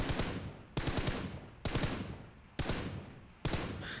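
Automatic gunfire in the mobile battle royale game PUBG Mobile: five loud, rapid bursts, each starting sharply and tapering off over under a second, with no talk.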